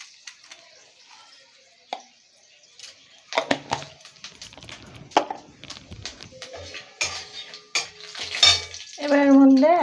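Bay leaf, whole garam masala and white cumin seeds spluttering in hot oil, sharp crackles and pops with scattered clinks of a utensil against the pan, building louder toward the end, with no talk.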